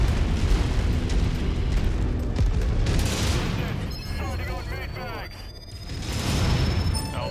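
Airstrike explosions from the MechWarrior 5 video game rumble and burst loudly in a dense, continuous barrage of booms and crackling blasts, with voices talking over the battle noise.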